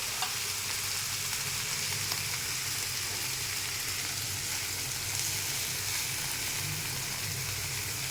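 Taro leaves, shrimp, onion and garlic frying in oil give a steady, close, even sizzle that runs unbroken throughout with no talking.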